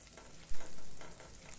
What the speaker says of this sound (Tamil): அதுக்கப்புறம் கொஞ்சம் கறிவேப்பிலையும் சேர்த்துடலாம்.